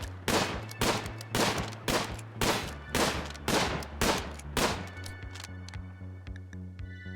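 Gunfire in the RimWorld video game: about ten evenly spaced sharp shots in a steady rhythm, close and fairly loud, with a faint low hum underneath.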